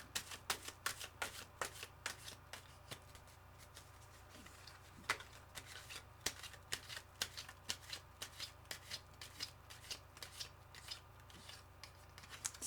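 Tarot cards from the Ancient Italian Tarot deck are shuffled by hand at close range, with a rapid run of soft riffling flicks and taps repeating steadily, quiet and with no one talking.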